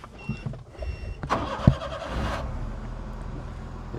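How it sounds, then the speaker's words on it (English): A 2005 Suzuki Carry mini truck with a 4-inch lift cranks briefly and its engine catches, settling into a quiet, steady idle, heard close and fairly faint. "Start up the engine."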